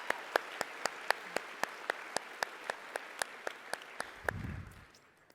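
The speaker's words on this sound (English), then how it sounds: "another massive round of applause" Audience applause at the Global Conference for Israel, heard as sharp, evenly spaced claps in a steady rhythm, ending in a brief low rumble before fading out.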